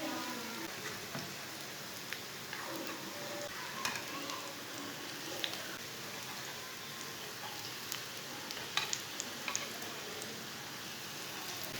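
Vermicelli kabab patties fry on a hot pan with a steady, soft sizzle, faint and close, with a few light crackles and pops scattered throughout and no talking.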